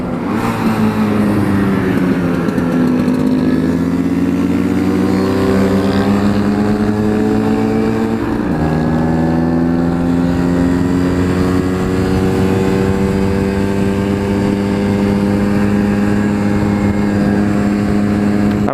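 A vehicle engine pulling in second gear drones loud and close for the whole stretch, its pitch climbing steadily, dipping briefly around the middle, then rising again under constant load, with no voices.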